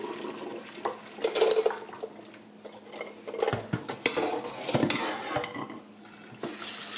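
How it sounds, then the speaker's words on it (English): Hot water drains from a pot of boiled quail eggs, with splashing pours, clanks of the pot and scattered metallic knocks in uneven bursts, close and moderately loud, no talking. "carefully drain off the hot water"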